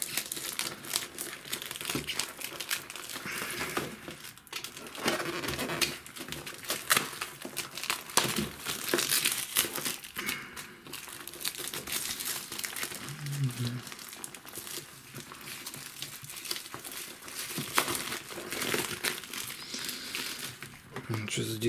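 Tape-sealed packaging around a boxed Panasonic AJ-MC700P microphone is pulled and unwrapped, giving continuous crinkling and crackling with sharp tearing bursts throughout, close and fairly loud.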